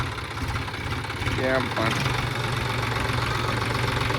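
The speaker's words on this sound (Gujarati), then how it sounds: "આમ જો સૌજીભાઈ ટ્રેક્ટર કર્યું છે ચાલુ." A tractor engine idles steadily after being started, a continuous low rumble with a slight knocking rhythm running under people talking nearby.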